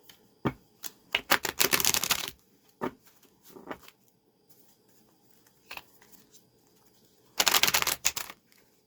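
A deck of playing cards shuffled in a tarot-style reading, with two loud riffle bursts at the start and end and softer card handling and taps between them, close up.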